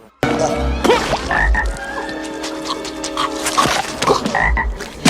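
Repeated frog croaks in an animated movie, loud and close, sounding in a steady run of deep throaty calls alone.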